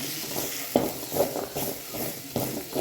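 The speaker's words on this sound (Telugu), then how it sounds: "ఎర్రగడ్డ, తెల్లగడ్డ, కారపొడి, పసుపు, ఉప్పు అన్నీ వేసుకొని దుబ్బు కింద ఆయిల్లో వేసి బాగా ఫ్రై చేయాలండి." Onion, garlic, chilli powder, turmeric and salt frying in oil for a spinach dish. A quiet, soft sizzle comes with rhythmic scraping stirs about every half second, close by and with no voices.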